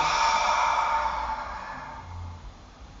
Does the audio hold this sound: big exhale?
yes